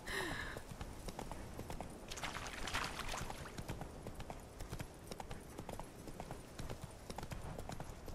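Roach the horse trots in The Witcher 3: Hearts of Stone, hooves clip-clopping in a steady, fairly quiet rhythm that runs throughout over soft outdoor ambience, with a short whinny-like cry at the very start.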